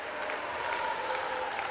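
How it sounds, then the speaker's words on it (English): Brief burst of crowd applause at a hockey Eurocup club final match, many hands clapping at once in a steady, moderately loud wash of sound. "both sides getting a warm round of applause"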